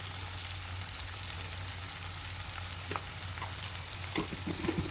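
Food fries in a pan until golden brown while a brinjal, tomato and drumstick curry is being made. A steady, soft sizzle runs throughout, and a few light stirring knocks come toward the end.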